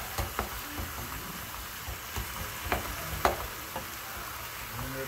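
Deer meat browns in a pan with a steady, fairly quiet sizzle, broken by a few sharp scrapes and taps of a utensil as it is stirred now and then.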